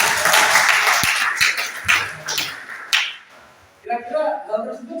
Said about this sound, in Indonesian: luar biasa, tepuk tangan semuanya